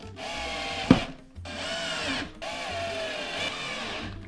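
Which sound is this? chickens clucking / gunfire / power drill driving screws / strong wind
power drill driving screws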